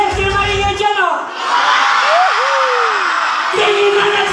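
A crowd at a barangay youth day event in San Dionisio cheers and whoops loudly for several seconds. A voice and music sit underneath the noise.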